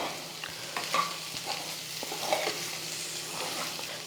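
A spoon scrapes and stirs through garlic chicken fry with coriander leaves in a sizzling pan, with soft irregular clinks over a steady frying hiss.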